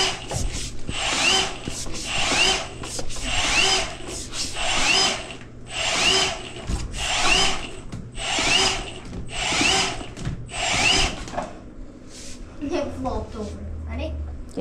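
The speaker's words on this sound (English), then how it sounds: "Can you pull the trigger on the drill for a sec?" A power drill driving a flex-shaft drain cleaner through a drain clogged with paper towels whirs in repeated short bursts, about eight trigger pulls in a row, close by, with a steady background hum and voices nearby.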